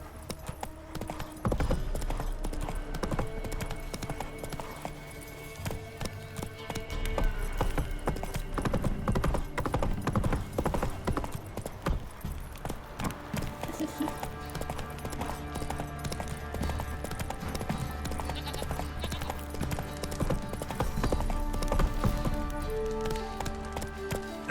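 Galloping hoofbeats of Geralt's horse Roach in The Witcher 3, a steady rapid clip-clop running throughout over a dense game soundtrack and ambient mix.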